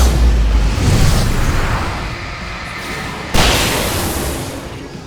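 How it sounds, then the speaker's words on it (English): Fireworks bursting during a fight in Alan Wake Remastered, a heavy boom at the start with a rumbling wash of crackle after it and a second loud burst partway through, close and full. "I can set off more of the fireworks from here and help you out!"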